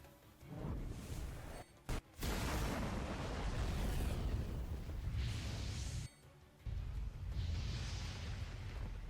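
Double summon attack in the Final Fantasy VII Ever Crisis video game: a dense barrage of loud explosive booms, bursts and whooshes, nearly continuous, with a couple of brief drops in between.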